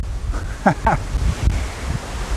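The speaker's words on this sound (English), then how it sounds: "If you can hear me over the wind noise." Gusty wind buffets the microphone with low rumbling thumps, and a voice briefly speaks over the blustery noise.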